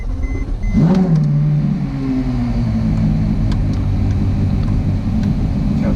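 A Porsche Carrera GT engine blips with a sharp, loud rev near the start, then settles into a deep, steady, close-up rumbling idle that holds to the end, unaccompanied by talk.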